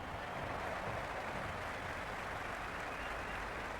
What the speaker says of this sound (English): Will you listen to that crowd? They are loving this.